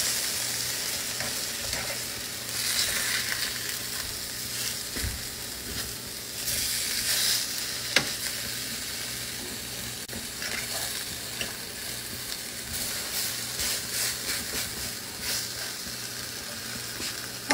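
Eggplant slices for begun bhaja fry in a pan with a continuous crackling sizzle, broken by occasional scraping and turning noises from a utensil, close and fairly loud with no speech.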